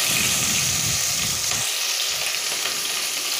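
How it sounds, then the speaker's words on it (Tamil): Onion and green chili sauté in a hot pan for coconut milk rice, a steady close sizzle with scraping stirring in the first moments, then an even frying hiss. "இது கொஞ்சம் நல்லா வதங்கணும்."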